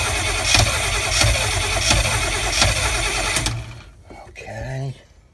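An engine is primed with a pump and cranked to start, then runs with a rough, steady loud rumble and periodic surges before cutting out; someone talks briefly afterward.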